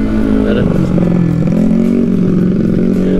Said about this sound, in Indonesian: mobil pengangkut batu bergerak itu gede banget asli